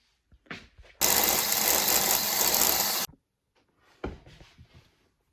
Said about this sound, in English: Can I wind your bobbin?